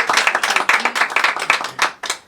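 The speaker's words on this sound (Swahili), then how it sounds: "makofi kwao." A church crowd claps for the Kinondoni Revival choir, a quick run of sharp, close hand claps with an uneven rhythm that thins out toward the end.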